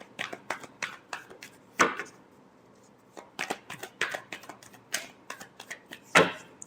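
A deck of tarot cards is shuffled nearby in quick riffling bursts and soft taps, a series of crisp papery rustles with short pauses between them.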